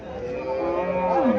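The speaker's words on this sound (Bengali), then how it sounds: "এখানে আর একটা হরিয়ানা জাতের গাভী দেখা যাচ্ছে" A cow at a cattle market, near a Haryana-breed dairy cow, gives one loud, close, drawn-out moo that rises slightly toward its end.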